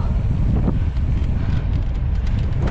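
Strong headwind buffets the microphone on an uphill mountain bike trail in continuous low rumbling gusts, loud and close, with no voices.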